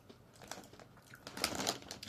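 Bacon-flavoured Top Chips potato crisps crunched by someone eating, with soft, irregular crackling bites close up that grow busier and louder toward the end.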